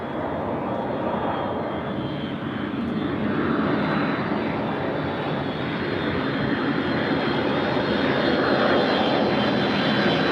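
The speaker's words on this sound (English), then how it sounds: "wait, is that a 777 coming? No, it's a 757." Boeing 757 jet airliner at LAX, a loud, steady engine roar with a high whine running through it, holding strong for about ten seconds as it passes nearby.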